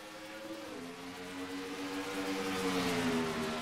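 Race car engines in a NASCAR-style video game hum and rise in pitch together as the pack accelerates off a green-flag start, a steady droning whine at moderate volume without speech.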